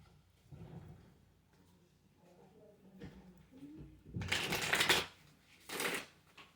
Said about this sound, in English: let me pull some Kali cards